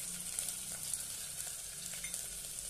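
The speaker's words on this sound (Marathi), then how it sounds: "छानपैकी परतून घेऊ आधी" Ground spices sizzle and fry in oil in a pan for vangi masala rice (Maharashtrian brinjal rice), a steady close crackle with light stirring scrapes throughout, no voices.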